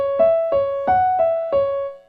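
Piano plays the melody of measures 7–8 from a song, five clear struck notes in an even rhythm, each ringing briefly, close and bright with no voices.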